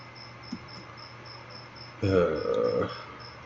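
A cricket chirps faintly in the background, a thin, steady high trill that repeats throughout, briefly joined near the end by a louder burst of low, muffled noise.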